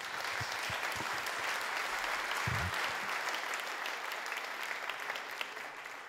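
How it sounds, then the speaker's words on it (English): A conference audience applauds panelists at the close of a bio-based sector session, with sustained, dense clapping that stays loud and even and fades slightly near the end. "please give a warm round of applause to our panelists."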